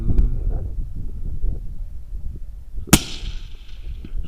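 A single sharp rifle shot from a 6.5 Creedmoor or .243 during a Kalahari hunt cracks loudly and briefly over low wind rumble in open country.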